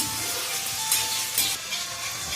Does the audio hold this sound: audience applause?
no